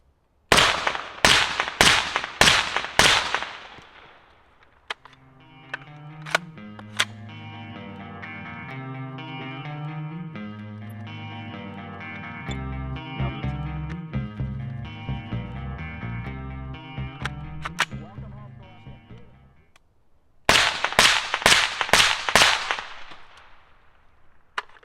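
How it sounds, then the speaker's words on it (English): Suppressed rifle firing 55 grain frangible rounds into dirt, a rapid string of five sharp cracks, then a long stretch of low melodic sound, and another quick volley of five shots near the end. "Shooting some 55 grain frangible. Send like 5 rounds. Just into dirt so we can hopefully hear it."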